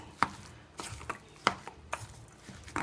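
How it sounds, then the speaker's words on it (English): A spoon works through a beef mixture in a bowl, giving several separate sharp scraping and tapping knocks at an uneven rhythm, close and fairly quiet, with no voices. "let me use a spoon and mush that up together"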